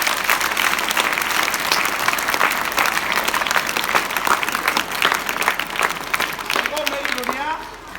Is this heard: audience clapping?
yes